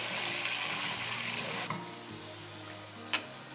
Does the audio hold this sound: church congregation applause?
no